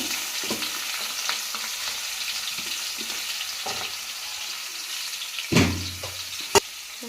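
Oil sizzles steadily in a pan while a spoon stirs and scrapes through onion and steamed plantain pieces, with a sharp clank and a brief louder hiss near the end.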